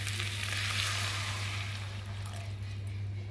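Water poured into fried, oil-separated spice paste for a banana-flower and prawn curry sets off a steady, dense sizzle with a constant low hum, close and even throughout, no talk.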